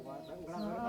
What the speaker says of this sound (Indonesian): Ini ayam apa ini?